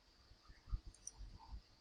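Quiet computer mouse clicks on a Windows Small Business Server 2011 machine, a few soft, brief taps spread irregularly over low room hiss, with no talking.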